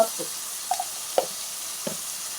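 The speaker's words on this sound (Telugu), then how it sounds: "పసుపు వేసి మళ్ళీ కలుపుకున్నాం." Turmeric stirred into tomato and okra in a pan over a steady frying hiss, with a few distinct scraping strokes of the spoon spaced across the short stretch.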